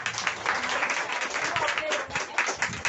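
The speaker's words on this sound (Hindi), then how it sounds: "मैम के सम्मान में एक बार तालियां होनी चाहिए" Applause from an audience honouring the owner of Soham Herbal store at a new outlet event, dense and steady clapping throughout with some voices mixed in.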